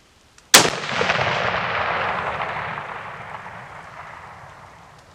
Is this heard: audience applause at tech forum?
no